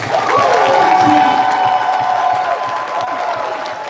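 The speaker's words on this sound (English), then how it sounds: "Let's give him a round of applause." A convention crowd at a closing ceremony cheers and applauds, a loud, steady roar with whoops and voices on top that holds for several seconds and eases slightly toward the end.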